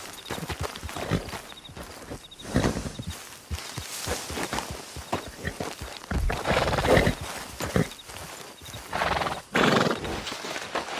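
A Hungarian Halfbred horse in a video game neighs and whinnies several times while its hooves clip-clop steadily at close range.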